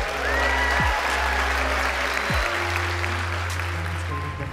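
Audience applause fills the hall for the debaters at a live public debate against IBM Project Debater, a steady dense clapping that runs the whole time with no talk over it.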